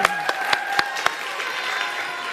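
On a Thai talk show, a handful of distinct, evenly spaced claps ring out for a singer, about five sharp hits over a faint, steady tonal background before fading into a low murmur.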